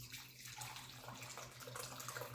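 Hot water pours steadily into a container for cooking quinoa, a close, continuous splashing rush with no talking.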